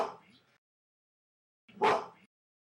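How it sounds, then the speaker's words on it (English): A gorilla gives two short, gruff barks: a weaker one at the start and a louder, fuller one after a pause of silence. "This is the sound of a gorilla barking."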